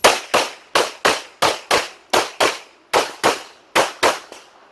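STI Edge pistol fired at a USPSA match at Central Florida Rifle & Pistol, a string of about fourteen sharp shots, loud and close, mostly in quick pairs with brief pauses between groups.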